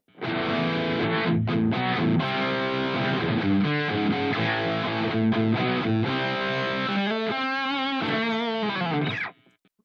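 Loud, heavily distorted electric guitar played through a Headrush modeler, dense chords and riffs for about nine seconds, dry with no reverb tail, then stopping abruptly.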